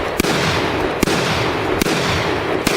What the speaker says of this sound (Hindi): जैसे ही इसने चीते पर गोली चलाई